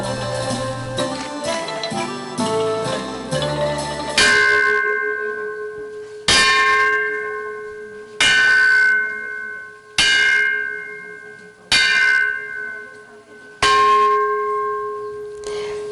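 A bell used as percussion in a song, first heard among melodic tones and then struck about six times at regular intervals, each loud clang ringing out and slowly decaying, with no voices.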